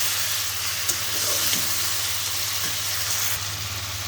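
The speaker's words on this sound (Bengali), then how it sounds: "মাছটা দিয়ে এখন সুন্দর করে একটু নেড়ে নিব" Fried snakehead fish is stirred in a sizzling pan, a steady close hiss of hot oil with a few soft scrapes and taps over a low constant hum, no voices.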